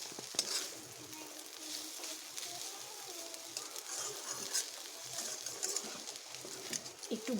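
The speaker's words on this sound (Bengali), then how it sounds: "এগুলো আমার ভাজা প্রায় হয়ে এসেছে" Kharkol (taro-like) leaves stir-frying with salt in a pan, a steady sizzle with scraping stirs throughout, while pigeons coo faintly in the background.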